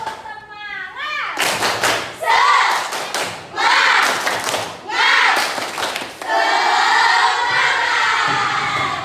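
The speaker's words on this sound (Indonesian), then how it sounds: "Tepuk semangat." Children in a classroom Quran and Hadith lesson clap together in bursts of rhythmic group clapping for a chant, several loud sections separated by short pauses, with a lively crowd of young voices around and a sustained cheering noise at the end.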